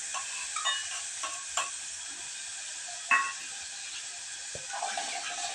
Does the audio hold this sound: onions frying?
yes